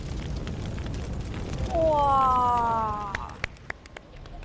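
Fire flares up under a clay pot braising chicken with lily bulbs, three-cup sauce and green Sichuan peppercorns, a steady roaring rush that briefly swells while a person exclaims over it.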